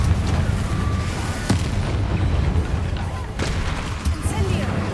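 Rumbling blasts and crackling magical combat in Hogwarts Legacy, a dense, continuous booming roar with a few sharper impacts standing out, loud and near, with a voice shouting spells over the din.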